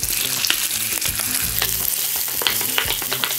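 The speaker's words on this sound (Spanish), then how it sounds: "Este es el momento que le vamos a agregar el huevo" An egg hits smoking-hot oil in a wok and fries with a loud, continuous close sizzle and crackle, over background music with no talking.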